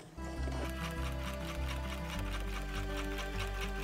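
A sewing machine runs steadily and close, its rapid needle rhythm whirring on without pause while embroidering stitch patterns onto a jean pocket.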